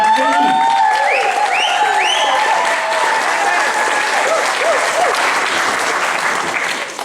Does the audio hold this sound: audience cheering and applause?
yes